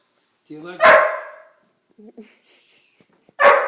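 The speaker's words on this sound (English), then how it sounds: "The dog barking like that is totally uncalled for." A pet dog named Reggie barks loudly and suddenly during an approaching electrical storm, two sharp bark bursts several seconds apart with quieter whimpering yips between them, close by in a house.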